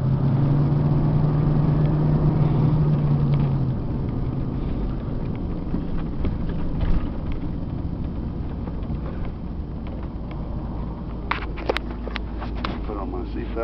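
A Tioga Arrow 21ft Class C motorhome drives along, its steady engine drone and road rumble continuous and fairly loud, with a humming tone early on and light rattles creeping in toward the end.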